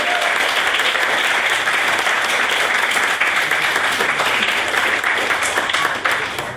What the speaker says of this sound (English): get another round of applause for Miss Montgomery's.